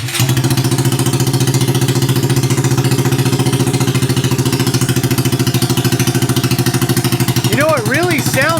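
Honda Grom motorcycle engine after a cold start, idling loud and close with a steady throbbing thump, a rising whine near the end, and voices talking over it.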